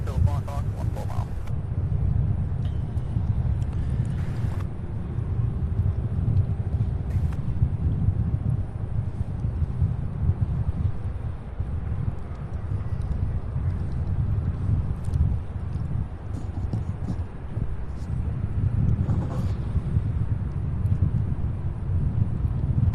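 Strong north wind buffets the microphone at Louisville International Airport, a constant low roaring rumble with gusting surges throughout, while faint distant traffic and airport noise sit underneath.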